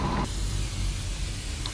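A spray gun lays primer onto a car body being repainted, giving a steady, close, airy hiss after a brief louder start, with no voices.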